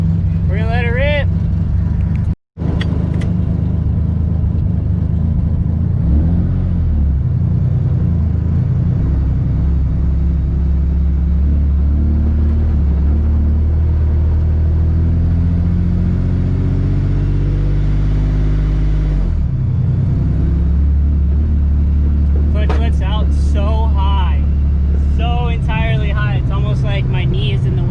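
A Nissan 350Z engine runs after a cold start, a deep steady idle rumble close by with a few revs rising and falling, while someone talks intermittently over it.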